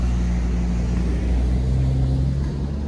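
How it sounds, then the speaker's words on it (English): Street traffic rumbles on as a steady, loud low drone of passing vehicles, a constant motor hum with no break and no talking. "sorry for the traffic noise"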